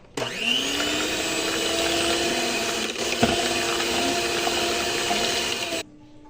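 A kitchen mixer whirs for a few seconds, blending malai kulfi mixture with bread crumbs into a creamy base. The motor spins up sharply, holds a loud steady whine with a brief bump midway, then cuts off abruptly.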